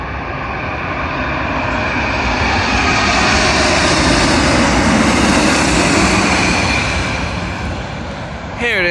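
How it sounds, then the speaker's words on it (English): A Virgin Atlantic Airbus A350-1000 arriving at London Heathrow on runway 27L, its loud roaring engine noise swelling and holding steady close by, then dropping away near the end. "Arriving in now is a Virgin Atlantic A350-1000, doing a service from Bridgetown"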